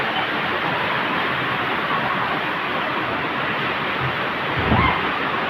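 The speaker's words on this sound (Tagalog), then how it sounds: "Ang lakas ng ulan oh." Heavy rain pours in a constant dense hiss over a swollen river fed by mountain runoff, loud and unbroken, with a brief low thump near the end.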